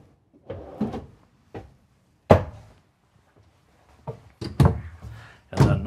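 A full pull-out drawer in a 2023 Newmar Dutch Star 4326 motorhome slides and thunks shut several times, with sharp knocks and short rolling scrapes separated by brief quiet gaps.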